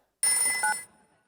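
A telephone rings once in a short electronic trill with steady high tones, loud and close, stopping abruptly, in a comedy film scene.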